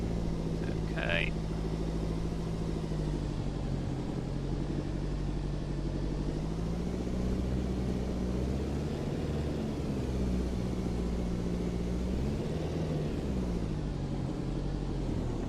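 Piper PA-18 Super Cub engine idling at low RPM in the X-Plane 12 flight simulator, parked in the British Columbia wilderness; a steady, even drone holds throughout with a faint wobble in pitch and no speech over it.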